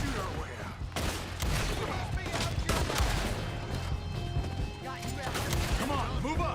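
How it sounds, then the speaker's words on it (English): Gunfire crackles in Red Dead Redemption 2 as a shootout rages, with rapid overlapping shots and occasional bursts amid dense battle noise and hoofbeats, loud and close, with voices mixed in. "We'll have to shoot our way out."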